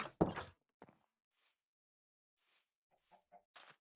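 Chickens in the Minecraft video game, prized red chickens among them, give one loud cluck up close followed by scattered softer clucks and squawks in a quiet setting.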